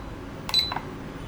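A couple of short electronic beeps from a standalone RFID access controller keypad, close and clear, followed by quiet room tone.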